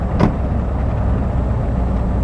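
A 1958 Chrysler Windsor with a 354 V8 and power steering rolls along, its steady low engine and road rumble filling the cabin with a brief soft whoosh near the start and no talking.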